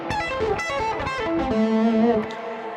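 A distorted electric guitar plays a quick arpeggio run that starts high and steps down low, its notes ringing together in a close, buzzy stream before fading.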